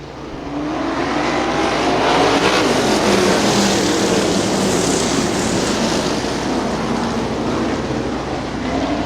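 Sprint cars, winged and non-winged, race on the dirt oval at Butler Battlegrounds in Quincy, a loud dense engine roar sustained throughout, close and steady with no talk.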